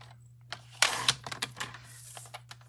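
A piece of paper is cut for a craft project, close snipping and rustling clicks in an irregular series of short sharp sounds over a faint steady hum.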